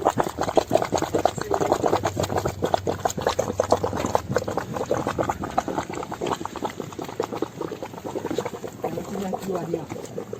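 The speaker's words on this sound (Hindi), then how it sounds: "देखिए पानी खोल रहा है यहाँ पे।" Bubbling hot sulphur spring water churning steadily and close by on a mountain pilgrimage route in Uttarakhand, with people talking over it throughout.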